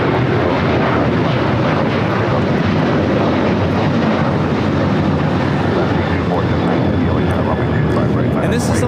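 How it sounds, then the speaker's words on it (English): Alaska Airlines Boeing 737-900ER taking off at LAX: a loud, continuous roaring jet rumble that holds steady throughout, with people talking over it. "this is Alaska Airlines 1430 taking off to Puerto Vallarta on the 737-900ER"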